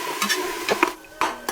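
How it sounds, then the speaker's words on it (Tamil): Onions sautéing with salt in a pan for beetroot biryani, heard as close, brief stirring scrapes and soft sizzling with a few spoon-on-pan clinks, no voices. "அடுத்து வெங்காயத்தை போட்டுக்கிறேங்க. இந்த வெங்காயம் வதங்கிறதுக்கு கொஞ்சம் உப்பு போட்டுக்கலாங்க."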